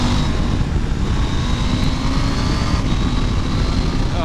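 A Husqvarna Norden adventure enduro motorcycle rides steadily, its engine drone joined by heavy wind rumble, loud and continuous throughout.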